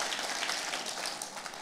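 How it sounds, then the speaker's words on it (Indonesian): A church congregation gives warm, sustained applause to God during a year-end Indonesian worship service, a dense, steady wash of many hands clapping together. "Ayo kita kasih tepuk tangannya yang paling meriah buat Tuhan kita"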